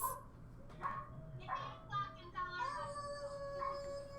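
A dog howls and yips at eight in the evening, several rising, wavering howls and short barks at moderate distance, fairly quiet, with faint voices nearby.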